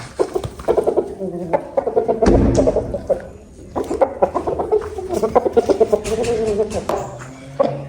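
Young roosters, about four kilos each, clucking close by in a steady run of short, irregular clucks with one louder burst partway through.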